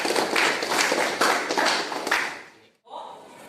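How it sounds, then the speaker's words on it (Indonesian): A group of students in an Islamic education class in Palembang claps together for about two and a half seconds in a brisk, fairly loud burst before it stops abruptly, with a brief murmur afterward. "Tepuk tangan dulu."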